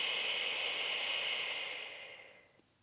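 A slow breath during a relaxation exercise for hip rehab, a long soft airy exhale that fades out over a few seconds, close and alone with no talk.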